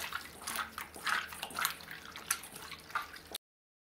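Sheep tripe kneaded and squeezed by hand with baking soda and salt gives close, wet squelching and sloshing in uneven bursts, loud and alone without talk.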